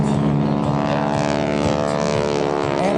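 Propeller airplane of about 5,000 pounds flying aerobatics at the Blue Angels homecoming airshow, its engine drone loud and steady throughout with a rich harmonic hum and no talk.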